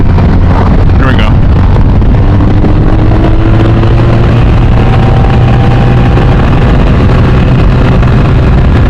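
A BMW R 1250 RT motorcycle runs hard in third gear at high revs and about 93 mph, its engine drone buried under loud, constant wind roar at the microphone.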